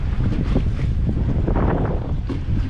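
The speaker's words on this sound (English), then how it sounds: "Man, it is windy today." Strong wind buffets the microphone out on the water while kayak fishing, a loud continuous roaring gust with no talk.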